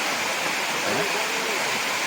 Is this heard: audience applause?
no